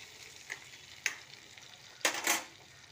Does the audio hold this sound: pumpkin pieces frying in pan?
yes